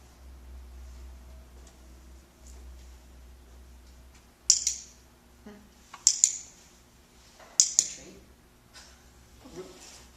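A dog training clicker snaps out sharp clicks, first one, then a close double click and another, during an orientation training session, with quiet voices and faint movement in between.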